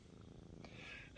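A pet cat purring on a person's lap inside a cabin in the woods, a soft, steady, close purr that is faint and brief.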